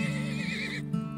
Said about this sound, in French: on va avoir besoin rapidement d'un cheval.